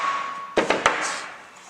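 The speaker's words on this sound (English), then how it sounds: "piece of wood, and then just hit it with a hammer and it'll go in flat" Three quick hammer blows on a piece of wood to seat a wheel bearing on a 1980 VW T3 Vanagon, sharp close knocks in fast succession that ring out briefly.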